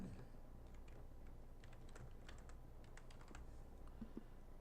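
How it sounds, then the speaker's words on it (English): Typing on a computer keyboard during a modded Minecraft session, a steady run of quick, light key clicks in irregular bursts over a low background hum, close to the microphone with no talking. "Let's just type this in."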